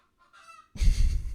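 A hen lets out a drawn, wavering cackle while laying an egg, then a loud, noisy burst of squawking and rustling close by, as if the bird is agitated.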